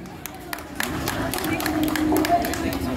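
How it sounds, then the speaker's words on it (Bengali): An audience at a Durga Puja 2025 gathering at SD Aqua View applauds a co-host, scattered claps thickening into steadier applause as a voice talks over it. "ওনার জন্য একটা জোরে হাততালি হয়ে যাক"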